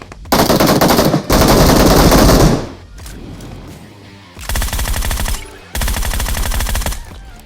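Automatic rifle fire in the mobile battle royale game BGMI (PUBG Mobile) comes in loud, rapid bursts, close and dry. Two long sprays are followed by a scattering of softer shots and then two more dense bursts, with no talk.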